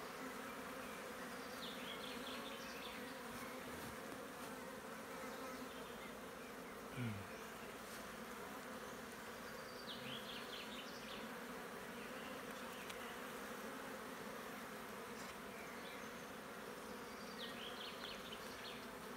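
A May swarm of honey bees fills the air with a steady, dense buzzing hum, faint and continuous throughout, with occasional higher individual buzzes passing by.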